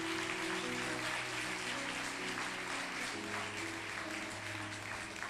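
A church congregation applauds strongly during an evening service, steady dense clapping filling the room with a sustained tone underneath, fairly loud and continuous.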